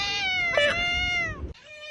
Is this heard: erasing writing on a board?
no